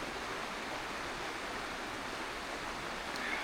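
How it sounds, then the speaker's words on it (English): Stream water flows steadily beside a tarp campsite in the woods, a soft, even hiss of rushing water like white noise, constant and unchanging, with no voices. "It's just so peaceful here with this water. Just a white noise all night."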